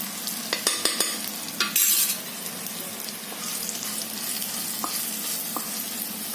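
Cumin, turmeric, chili and asafoetida frying in hot oil for a spicy chili dish, a close, steady sizzle with a few sharp spoon clicks and stirring at the start, no voices.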